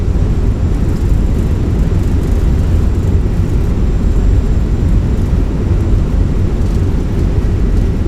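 An airliner's thrust reversers and spoilers deploy during the landing rollout, making a loud, steady, broadband roar that holds evenly throughout with no voices.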